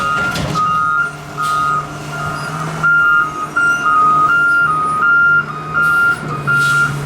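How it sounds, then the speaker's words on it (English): A garbage truck reversing beeps in a steady repeating pattern a short distance away, its engine rumbling underneath, with a sharp clank near the start. "it's a garbage truck in the background"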